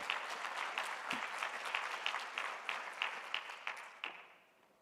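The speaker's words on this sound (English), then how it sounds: "So I'd like to ask you a round of applause to our guests." Summit guests receive a round of applause from a seated audience, dense steady clapping from many hands at moderate distance that slowly thins and fades out toward the end.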